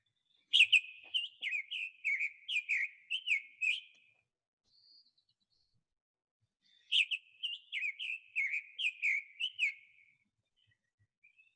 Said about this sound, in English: here's the summer tanager